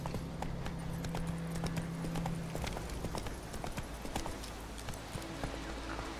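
Roach, a horse in The Witcher 3: Wild Hunt, beats out a steady run of hoofbeats on the ground, moderately loud, with a soft game music drone underneath.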